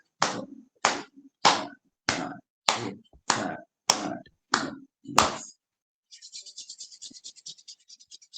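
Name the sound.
clapping hands ten times during yoga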